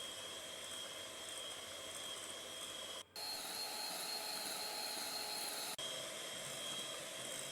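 An electric hand mixer whirs steadily while beating cake batter with vanilla for a heart-shaped Valentine sablé cake, a loud continuous motor hum with two brief cut-outs as it pauses.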